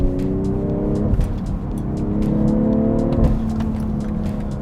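A BMW M340i six-cylinder engine pulls steadily up a semi-winding road, its loud, continuous drone shifting in pitch as the car works through the corners and climbs the slope.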